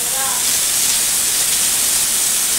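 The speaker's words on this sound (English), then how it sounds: "So we're going to wrench these in the zinc." White beans being rinsed under running water in a kitchen sink make a loud, steady, close hissing rush that fills the whole stretch without pause, with only a faint hint of a voice at the very start.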